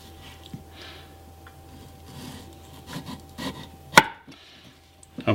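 A knife slices through late-season tomatoes on a cutting board, a few soft, dull cuts with one sharp click against the board near the end, close and quiet, with no talking.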